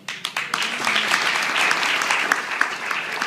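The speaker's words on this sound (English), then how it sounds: "You don't need to clap for them." Wedding guests break into applause that builds quickly into dense, sustained clapping from a large crowd and continues steadily throughout.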